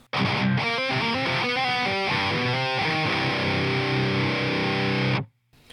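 A distorted electric guitar plays a fast, busy riff of picked notes, then settles into a held, ringing chord before cutting off.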